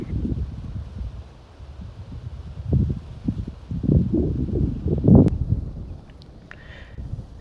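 Gusty wind buffets the microphone outdoors at Fort Pulaski in Savannah, Georgia, low rumbling surges rising and falling with a few faint rustles in between.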